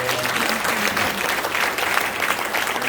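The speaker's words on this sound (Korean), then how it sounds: "박수 한번 쳐주세요." A church congregation applauds continuously at a 50th-anniversary ordination thanksgiving service, with steady, dense clapping from a large crowd throughout.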